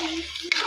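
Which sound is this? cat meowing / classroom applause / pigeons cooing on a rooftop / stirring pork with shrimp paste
stirring pork with shrimp paste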